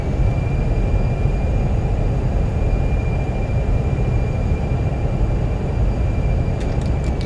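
Fenix A320 engines roar in reverse thrust after touchdown in Microsoft Flight Simulator, a loud, sustained broadband rush that holds steady for several seconds with no voices.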